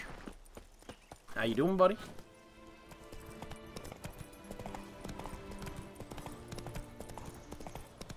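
Roach, a horse in The Witcher 3, trots with steady clip-clopping hooves and gives a brief whinny, while someone talks over the game sounds.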